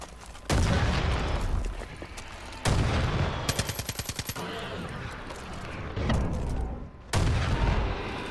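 Explosions and heavy gunfire in Far Cry 5 during a bounty battle: several loud broadband blasts spaced a couple of seconds apart, with a rapid burst of automatic fire between them.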